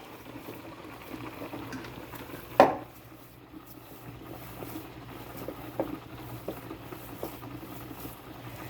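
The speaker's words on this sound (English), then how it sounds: "I have a half a cup of water boiling here for the spaghetti sauce." Half a cup of water bubbles quietly in a pot at a steady simmer for spaghetti sauce, with a single metallic clank early on.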